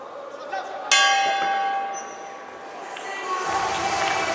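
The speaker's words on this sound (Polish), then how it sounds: "No i tak naprawdę gong teraz ratuje z opresji Kacpra" Bell-like gong ending a round at an MMA fight in Kraków, one loud ringing strike with a long fading tone over crowd noise and commentary.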